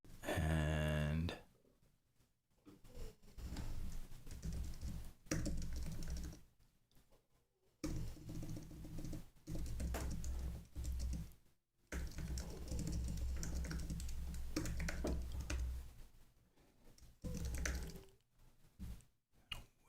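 Typing on a computer keyboard, bursts of close, quick key clicks separated by short pauses, fairly quiet, with some talking nearby.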